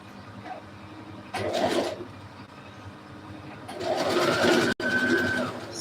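A sewing machine stitches a dress in two bursts, a short run and then a longer steady whir, fairly close with quiet pauses between.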